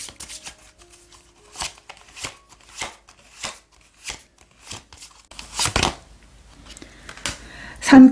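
Oracle cards are shuffled by hand in a series of crisp, close riffling and slapping bursts at a loose, irregular rhythm, with a few stronger swishes toward the end and quiet gaps in between.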